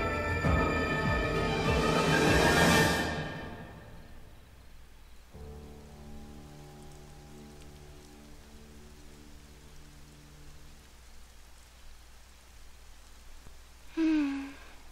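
Rain falling in the Xenoblade Chronicles 2 video game: a dense hiss of steady rainfall at the start that fades after a few seconds, leaving a quiet tonal drone and a brief sound near the end.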